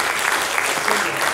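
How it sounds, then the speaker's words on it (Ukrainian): Audience applause fills the hall at a gala concert of jury members at the Poltava Battle wind and percussion festival-contest, a brief, even wash of many hands clapping. "Ваші оплески."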